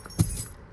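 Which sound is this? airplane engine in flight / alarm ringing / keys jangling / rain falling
keys jangling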